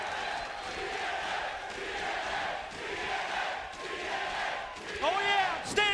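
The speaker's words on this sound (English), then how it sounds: "Listen to this crowd!" A packed pro wrestling arena crowd roars in a sustained wash of cheering and chanting, loud and continuous, with a few sharp yells rising near the end.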